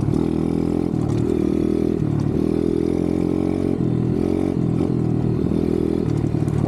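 A dirt bike engine runs steadily at low revs, a close, even droning hum with small rises and dips in pitch.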